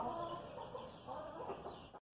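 Chickens cluck softly in a farm coop, a faint, close group of murmuring hen calls that ends in an abrupt cut.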